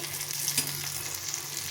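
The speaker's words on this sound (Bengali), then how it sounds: "এর মধ্যে কয়েকটা কাঁচা লঙ্কা দিয়েছি" Pakoras with green chillies fry in hot oil in a pan, giving a steady, soft, continuous sizzle and crackle with no voices.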